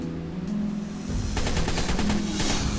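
Rapid shotgun fire in the Ark Survival Evolved video game, a burst of repeated blasts over a constant background rumble, fairly loud.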